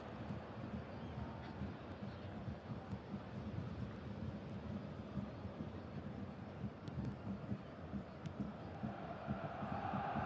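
Stadium crowd in the eFootball soccer game, a constant low roar of many voices with rising murmurs and shouts, fairly distant and even throughout.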